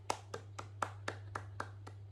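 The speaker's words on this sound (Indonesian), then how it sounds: "Marilah kita berikan tepuk tangan." A classroom group claps sparsely after a student presentation: about nine separate, loosely spaced hand claps over two seconds, moderately near and fairly faint, over a steady low hum and with no talk.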